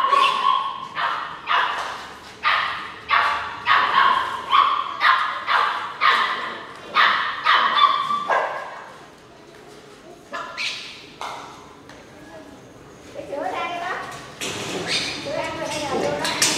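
Close, loud dog barking in a rapid run of sharp barks for several seconds, then a pause, followed by a few more barks and people talking over the last stretch.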